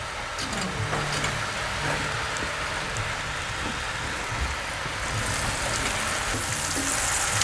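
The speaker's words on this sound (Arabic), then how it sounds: "رح شغل الغاز ونزل عليها شوي من الزبدة اللي عندي" Butter melts in a hot frying pan on a gas stove, giving a steady, loud, close sizzle and crackle like rain, continuous throughout with no talk.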